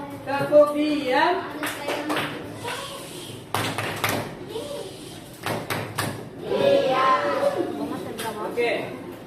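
Schoolchildren in a classroom perform a rhythmic clapping routine, sharp bursts of claps coming in short groups between stretches of talking and room noise.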